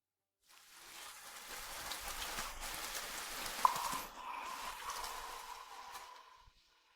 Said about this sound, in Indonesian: Di luar sedang hujan?